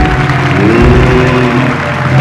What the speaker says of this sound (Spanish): ¡Fuerte el aplauso para mi Evelia!